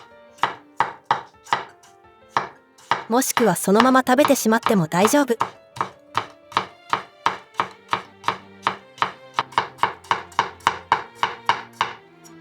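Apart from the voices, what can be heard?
knife chopping carrot on cutting board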